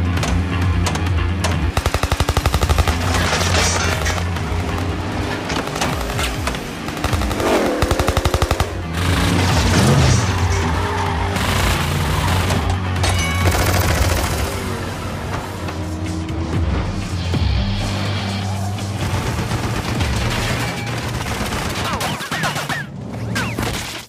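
Automatic gunfire during a car chase in an action film, as rival racers shoot at a car: continuous loud bursts of shots over roaring engines and passing vehicles, with no talk.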